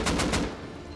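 Three quick, loud gunshots ring out during a base raid in the survival game Rust, then the sound fades into a quieter ringing tail.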